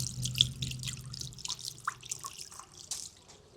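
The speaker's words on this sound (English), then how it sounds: "This one over here though has such a soft sound. Let me see. It is so soft and so subtle." A garden water fountain trickles softly nearby, with faint, gentle dripping and splashing in an irregular patter and a low background hum.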